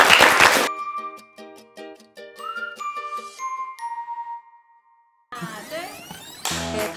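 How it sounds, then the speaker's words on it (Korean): A group of city hall staff at a meeting with the Cheongju mayor breaks into brief bursts of clapping at the start and again at the end, with a chiming musical jingle in between. "박수로 마칠까?"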